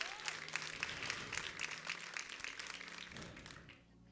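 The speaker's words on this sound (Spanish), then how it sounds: "Den un fuerte aplauso al Rey de Reyes." A church congregation breaks into loud sustained applause, many hands clapping at once in a dense wash that holds steady and then tapers off toward the end, with faint voices beneath.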